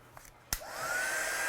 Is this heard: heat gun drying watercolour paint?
yes